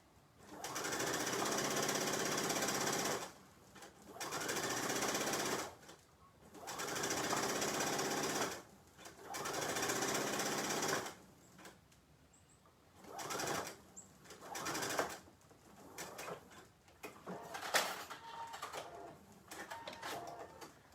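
A sewing machine stitches a pajama pant waistband in a series of steady bursts, longer runs at first and then shorter, choppier ones, with quiet pauses between.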